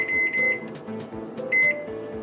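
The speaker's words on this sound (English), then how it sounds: "Let's put her right in the oven. The microwave oven." Microwave oven keypad beeping as a cooking time is entered, a series of short sharp beeps in two clusters with button clicks and faint handling noise between, close and clear, no talking.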